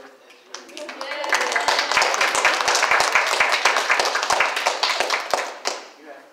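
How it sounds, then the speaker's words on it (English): A round of applause for Dr. Gibson at a university student senate meeting, a smaller group clapping with distinct individual claps that swell quickly, hold for several seconds and then taper off. "let's give a big round of applause to Dr. Gibson"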